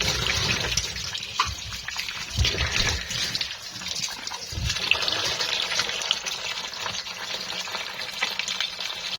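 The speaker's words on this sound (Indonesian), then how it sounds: "Dicuci semuanya pakai air mengalir." Guava and apples are washed under running tap water: a continuous splashing, gurgling stream with shifting bursts as the fruit is moved around under the flow. No talk is heard.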